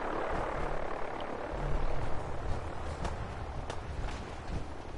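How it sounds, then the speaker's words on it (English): Fallout 4 Vertibird helicopter in a video game, a steady broadband rotor and engine roar that holds throughout, swelling slightly midway, with faint clicks and steps mixed in. "You tried to kill that helicopter?"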